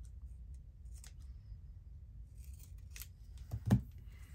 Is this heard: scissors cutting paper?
yes